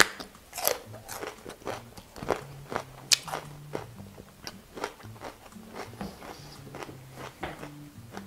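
Crisp bites and repeated crunchy chewing of a raw pepper resembling a green bell pepper, heard close up as a rapid series of sharp crunches with no talking.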